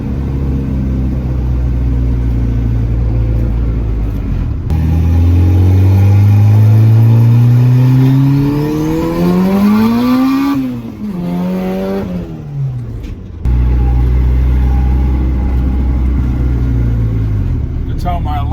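A turbocharged car fitted with new turbo parts accelerates hard nearby, the engine note climbing through revs before a gear change and easing off, then resuming its loud rumble; a voice talks over it.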